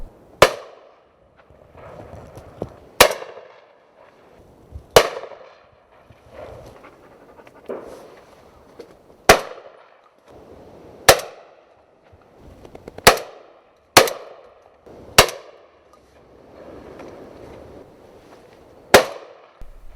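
Shotgun shots fired at pigeons from a hide in hurricane-force wind ring out one by one, about a dozen loud, sharp blasts spaced unevenly a second or two apart. Wind rushes underneath.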